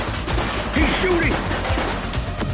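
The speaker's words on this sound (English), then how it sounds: "He's shooting!" Gunfire in the police video game The Precinct, a rapid burst of shots over a dense, noisy backdrop with voices mixed in.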